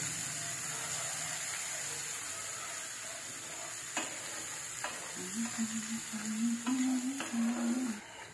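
Pointed gourd peel paste sizzles steadily in hot oil while being stirred, with a few sharp scrape clicks of the spoon against the pan; a faint voice murmurs briefly near the end.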